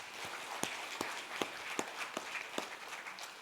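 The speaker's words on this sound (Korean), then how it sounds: "우리 감사와 격려의 박수 한번 주십시오." A church congregation applauds the choir conductor, steady scattered clapping with sharp individual claps standing out, moderately loud and without speech.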